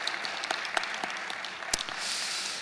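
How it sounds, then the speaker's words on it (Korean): A church congregation claps to encourage an elder, a dense patter of many hands in a large room with a few louder individual claps, swelling slightly toward the end. "우리 격려의 박수로 한번 장로님 드리도록 하겠습니다"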